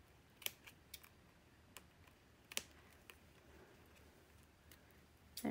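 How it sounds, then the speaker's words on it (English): Scissors snip through a printed paper photo in a few sharp, scattered cuts, faint and close, with quiet pauses between snips. "So I'm just going to snip those."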